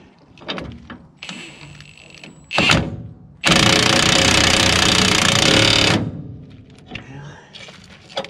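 Wrench work on a New Holland 474 haybine: scattered metallic knocks and clanks, then a loud sustained whirring burst of a few seconds before the clanking resumes, with a voice faintly present.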